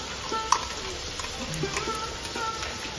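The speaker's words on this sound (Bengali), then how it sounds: "দিয়ে ভালোভাবে আরেকটা চিকেনটাকে কষিয়ে নেব।" Boneless chicken being sautéed with spice paste, a close continuous sizzle broken by scraping stirs and one sharp clink of the utensil against the pan.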